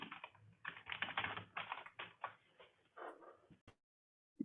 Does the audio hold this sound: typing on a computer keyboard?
yes